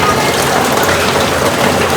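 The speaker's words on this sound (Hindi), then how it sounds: "कितनी तेज़ बारिश हो रही है।" Heavy rain pours down steadily in a Nepal village market, a dense continuous hiss of drops drumming on surfaces that stays loud and unbroken throughout.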